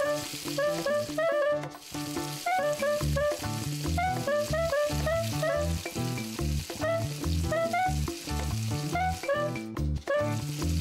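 Onions sizzle on a cooking station in the video game PlateUp. The steady frying hiss plays under bright, bouncy game music for the whole stretch, with no talking.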